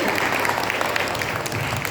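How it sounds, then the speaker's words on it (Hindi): A church congregation at a Hindi-language prayer service applauds loudly and steadily throughout, a dense wash of hand claps with a faint voice underneath. "जोर से ताली बजाएंगे"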